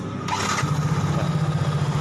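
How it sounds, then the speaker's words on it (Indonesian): An X-Ride motorcycle engine cranks briefly, then catches and settles into a steady, throbbing idle nearby. "Ya, motor dihidupkan lagi."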